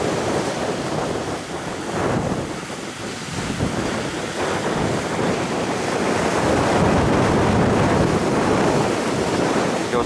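Strong sea waves surge and crash around a boat running with the swell during a storm, with loud, continuous wind buffeting the microphone throughout.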